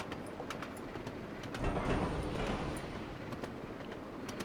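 A steam train running on the Cornish Mainline in the Trainz Railroad Simulator 2019 video game, a faint low rolling rumble with light rhythmic wheel clicks that swells briefly in the middle.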